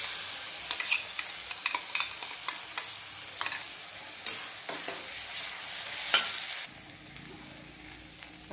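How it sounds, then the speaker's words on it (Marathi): Onion being sautéed in a pan for brinjal bharta sizzles steadily while a utensil scrapes and stirs in repeated sharp clicks, then the frying settles to a softer hiss near the end. "कांदा छान परतून घ्यायचा आहे।"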